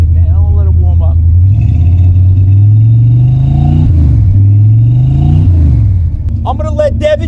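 A car engine runs loudly up close, its revs rising and falling in repeated slow sweeps over a rough idle, with a person talking briefly near the end.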